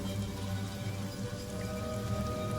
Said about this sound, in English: you hear the patter of rain